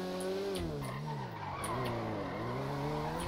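Car drifting in GTA with tires skidding and squealing continuously, a rising and falling engine drone underneath, loud and close throughout with no talking.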